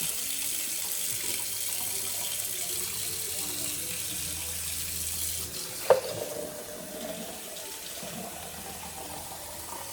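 Steady broadband water noise like a running tap fills the clip, with a brief sharp clink near the middle.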